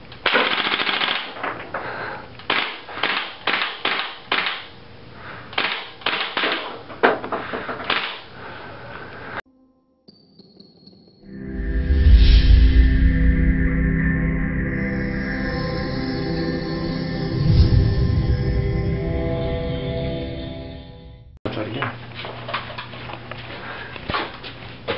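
G&G CM16 airsoft gas blowback rifle firing outdoors, rapid bursts of sharp mechanical cracks with clacking bolt action, then a pause and a long loud rushing hiss and whine before more quick firing resumes.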